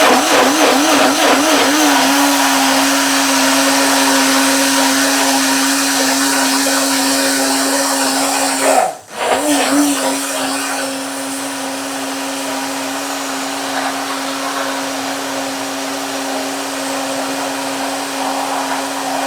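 A small blender whirs steadily while blending an anti-inflammatory smoothie, a loud continuous motor hum that briefly dips and stalls for a moment partway through, then resumes at the same pitch.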